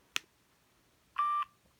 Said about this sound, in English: All it really does is beep.